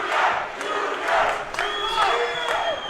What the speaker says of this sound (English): the crowd now trying to pump him up